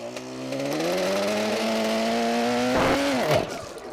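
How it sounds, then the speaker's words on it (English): A classic car engine runs steadily and then revs up, its harmonics rising and holding at a high pitch before dropping off sharply near the end; the engine is loud and close with no talking over it. "the engine ran really well, didn't it? Wanting to go"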